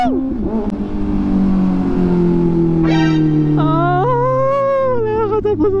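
A 2024 Kawasaki ZX-6R with an inline-four engine and AR exhaust, revving loud and close. The pitch climbs and falls across several throttle blips, rising to a high scream near the end.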